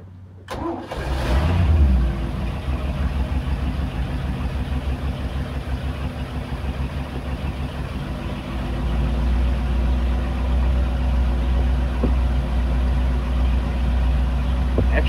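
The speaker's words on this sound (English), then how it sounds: "right after the key, the engine cranked, see, she went to normal working condition" A car engine fitted with an Edelbrock 1410 carburetor cranks briefly, catches, and settles into a steady, close, rumbling idle that grows slightly louder later on.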